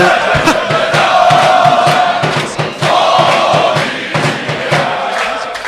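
A crowd of spectators at a Valorant esports match shouting and roaring in loud bursts, with rhythmic chanting-like swells throughout.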